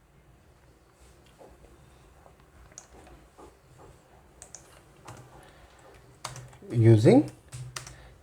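Typing on a computer keyboard while writing SQL code, scattered soft key clicks with a louder burst of keystrokes near the end, heard under someone speaking.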